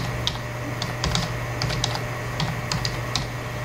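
A computer keyboard is tapped at a steady, uneven pace, a dozen or so light, close keystroke clicks over a low constant hum, with no voices.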